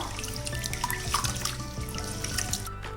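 Water sloshes and trickles as rice and lentils are swished and rinsed in a vessel, with small splashes and drips, close and moderately quiet.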